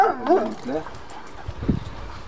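A Kangal dog barks and whimpers in short bursts close by, alongside people talking.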